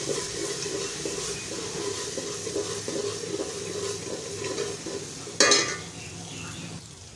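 Ginger and garlic frying in a pot with onions that are already browned, giving a steady low sizzle throughout and a brief louder scrape or clatter near the end. No one talks over it.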